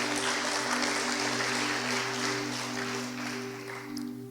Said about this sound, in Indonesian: Kasih tepuk tangan yang kuat buat Tuhan Yesus.